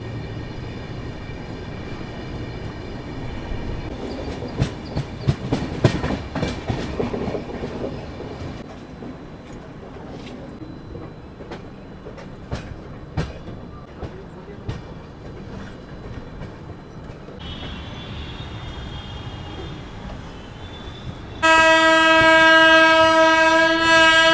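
The 12438 Secunderabad Rajdhani Express runs from New Delhi to Hyderabad with a steady rolling rumble and intermittent wheel clatter, then a loud, sustained horn sounds close by near the end.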